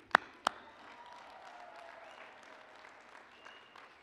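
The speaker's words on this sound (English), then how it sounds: "The talented faculty and staff of Bergen Community College deserve a big round of applause" Commencement audience at Bergen Community College applauding faculty and staff: two sharp claps up front, then a steady, fairly quiet wash of clapping from a large crowd that holds evenly to the end.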